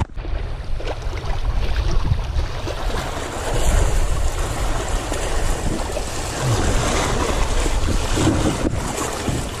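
A strong river current rushes in a dense, unbroken roar of churning water with wind noise buffeting the microphone, loud and close throughout, no voices.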